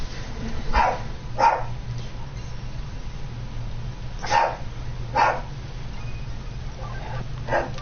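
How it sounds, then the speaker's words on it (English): A dog named Henry barks in a few sharp, separate bursts spread over several seconds, fairly close, with a low steady hum running underneath. "I'm gonna assume that the fact that he's still barking means somebody is here that he's not a fan of."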